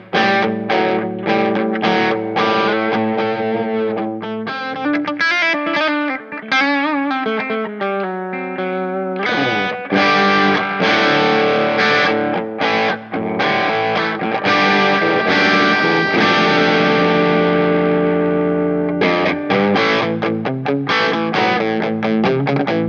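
Electric guitar runs through a DigiTech X-Series Hot Rod rock distortion pedal with treble boosted, playing loud, heavily distorted chords and riffs with a bright, saturated tone, continuous and without talk.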